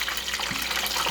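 Corn-battered hot dog frying in 350-degree oil, a steady broadband crackling hiss close by, continuous and even for about a second with no talk.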